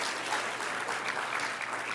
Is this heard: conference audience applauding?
yes